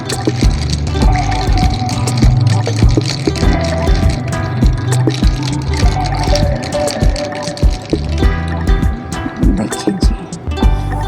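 Mango squash and water being shaken together in a container, a loud, continuous churning slosh with rapid knocking and splashing pulses that runs steadily throughout.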